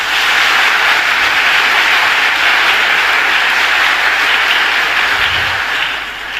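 Large crowd applauding police academy graduates at a ceremony, a loud, dense, unbroken wash of clapping that carries through the whole stretch and dips slightly near the end.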